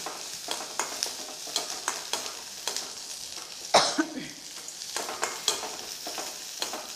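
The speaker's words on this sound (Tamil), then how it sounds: "இப்போ பாருங்கள் இந்த வெங்காயம் நல்லா வதங்கிருச்சு" Onions sizzle and fry in a pan while a spoon stirs and scrapes in a steady rhythm, with one louder knock partway through.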